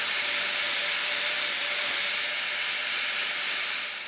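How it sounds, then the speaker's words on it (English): Grinder working an infected cow hoof cavity, a loud, continuous close-up hiss with a faint steady whine and no pauses, easing off slightly at the end. "So we use the grinder"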